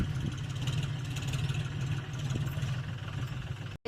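A farm tractor engine runs at a steady idle-like drone with a low, throbbing hum, fairly close and unbroken until a sudden brief cutout at the very end.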